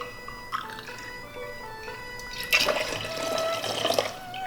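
Bourbon, 1.5 ounces for a cocktail, is poured into a glass with a short liquid trickle and splash that swells partway through, faint and close with a quiet room behind it.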